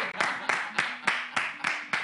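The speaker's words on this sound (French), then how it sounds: "on va l'applaudir très fort" Light audience applause at a live French talk show taping, a handful of sharp clap bursts at a steady rhythm with a faint voice murmuring underneath.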